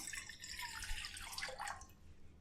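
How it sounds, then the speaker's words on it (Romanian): Water, 200 ml of it, splashes and trickles into a small pot for making sugar syrup, a faint, close pouring sound lasting a couple of seconds. "Într-un ivric punem cei 200 de ml de apă"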